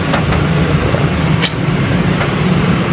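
Traffic rumbles loudly and continuously under a structure at night on the Matnog crossing, with passing cars and buses, a steady engine drone and a few sharp squeals or hisses cutting through.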